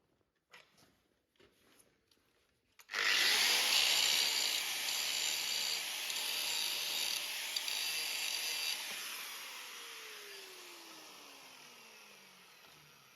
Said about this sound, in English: But I'll have a go with the grinder, see what the sparks look like, see whether it's cast iron or not.